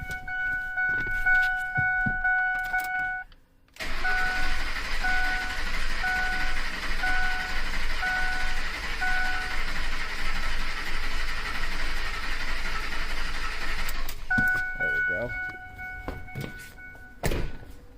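A 2004 Ford F-150 with a 4.6L V8 and a rough idle cranks over with a brief whir, then settles into a steady, uneven idling drone that runs for about ten seconds before cutting off, with faint beeping tones before and after.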